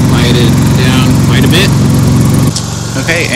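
A Predator 3500 portable generator running in eco mode, its steady loud engine drone close up throughout, with a slight drop in pitch and level partway through.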